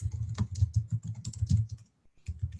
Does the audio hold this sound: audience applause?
no